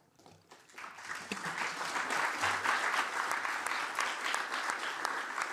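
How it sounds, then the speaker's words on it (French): Conference audience applause in a hall, rising from a few scattered claps into a steady, full ovation that holds at moderate loudness to the end. "je vais simplement vous prier d'applaudir encore une fois"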